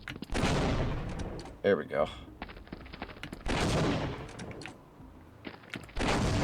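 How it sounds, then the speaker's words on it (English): Bombs detonate in a retro video game with loud, booming bursts that come in several separate volleys and leave short gaps between them. Someone briefly speaks over the sound. "All these bomb explosions are probably annoying everybody."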